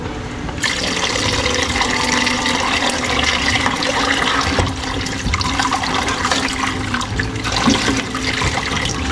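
Broth pours steadily into a pot of beef papaitan soup, a continuous rushing, splashing liquid stream that starts abruptly and runs loud and unbroken to the end.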